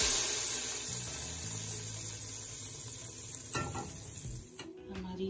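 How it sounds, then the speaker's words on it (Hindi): Hot tadka tempering hits moong masoor daal with a soft sizzle, followed by quiet stirring and a few clinks of pots and utensils. The sound stays fairly faint and no one speaks. "अब मैं इसमें दाल में तड़का लगाऊंगी।"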